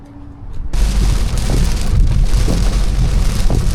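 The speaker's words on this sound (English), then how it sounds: "Oh, it's starting to rain." Heavy rain suddenly begins, a loud dense hiss of drops pounding surfaces that sets in after a quiet moment and holds steady, with a few heavier splashes.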